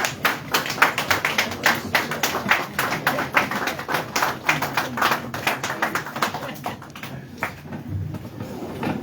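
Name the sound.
audience applause, standing ovation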